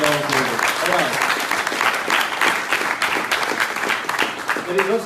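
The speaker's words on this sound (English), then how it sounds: "big applause to people" Audience at a tech event applauding, dense steady clapping throughout, with a voice speaking over it at the start and again at the end.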